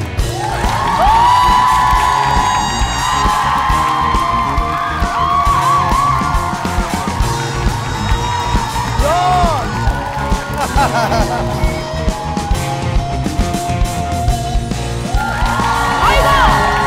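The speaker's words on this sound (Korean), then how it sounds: "박수" Audience applause and cheering at a televised trot music competition stage, a continuous loud crowd roar with whoops and shouts throughout.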